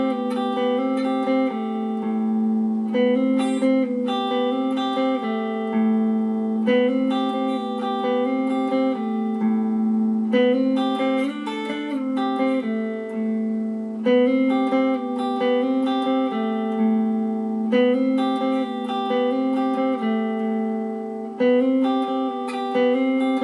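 Electric guitar plays the intro of a song, a continuous melodic line of ringing notes with effects and reverb, steady and close for over twenty seconds with no talking.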